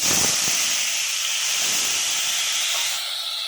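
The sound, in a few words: tomato added to hot spiced oil, sizzling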